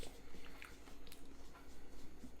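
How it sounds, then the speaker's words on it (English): Close, quiet crunching and chewing of small-kernel popcorn popped in coconut oil, a steady run of soft bites and crackles with no talk over it. "very crunchy popcorn."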